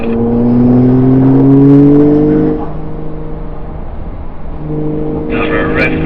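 A Porsche accelerating on the Hockenheimring circuit, a loud engine note rising steadily for a couple of seconds, easing off briefly, then climbing again, heard close from inside the car with no talk.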